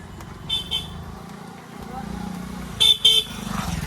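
A road traffic jam on the way to Bhimashankar: vehicle horns blare in short bursts, two quick toots early and two louder ones near the end, over a low idling engine rumble while people talk.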